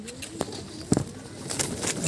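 Pigeons of the Madrasi breed coo softly inside a cage, with a few low throaty calls and some brief rustles and flutters nearby.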